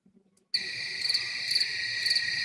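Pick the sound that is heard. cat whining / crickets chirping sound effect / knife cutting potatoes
crickets chirping sound effect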